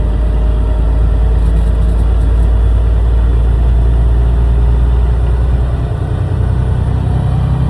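A 10-speed semi truck engine while the driver floats gears from 8 to 9 without the clutch: loud, steady low diesel rumble close up inside the cab, with the pitch dropping slightly as the gas is let off.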